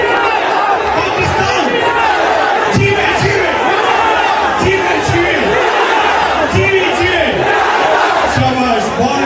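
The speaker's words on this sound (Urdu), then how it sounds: "وہاں نعرے کیا لگ رہے ہیں؟ عمران خان زندہ باد کے" Large crowd chanting Imran Khan Zindabad slogans at a government event, a loud continuous roar of massed voices with rhythmic shouted bursts throughout.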